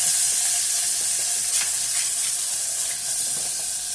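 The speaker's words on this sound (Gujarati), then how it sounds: "હિંગ નાખી અને મરચાં નાખી દીધા" Green chillies dropped into hot oil with asafoetida, mustard seeds and cumin, giving a loud, steady close sizzle with faint crackles and light stirring throughout, no talk.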